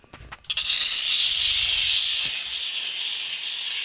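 A bristle brush attachment scrubs masonry paint out of fabric clothing, making a steady, close, loud hissing scrub that starts after a few brief rubbing strokes and continues without a break.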